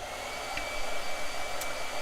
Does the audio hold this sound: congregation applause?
no